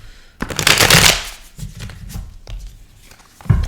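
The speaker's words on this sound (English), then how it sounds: "It takes forever to shuffle these tarot cards." Tarot cards being shuffled by hand, quick crisp riffling bursts that start and stop in short runs, close and fairly loud with no talking.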